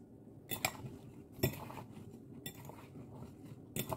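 A utensil stirs sliced apples sprinkled with lemon juice in a bowl while baking an apple charlotte, giving a few soft, scattered clinks and scrapes against the bowl, close and fairly quiet, with no talking.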